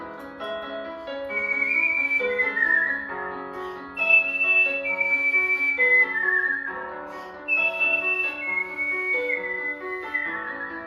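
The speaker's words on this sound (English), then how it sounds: "I thought I was supposed to be whistling" A person whistles a wandering melody alone, clear sustained notes rising and falling in phrases with short breaths between.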